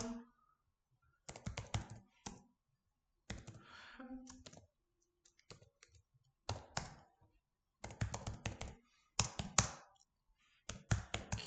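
Keyboard typing in a computer lab, with bursts of rapid key clicks and taps separated by brief pauses, close and fairly quiet with no talking.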